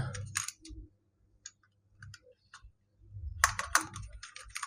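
Bursts of close computer keyboard typing, quick clusters of key clicks separated by short pauses, the densest run near the end, no talk.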